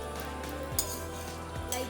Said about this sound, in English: On a medium flame, fry this all